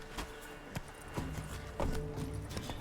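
Hooves of a galloping horse in The Witcher 3 video game, a steady clip-clop rhythm of repeated hoof strikes, moderately close and fairly quiet, with no talk over it.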